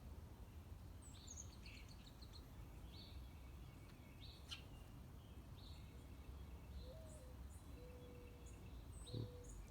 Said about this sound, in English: That's a mourning dove.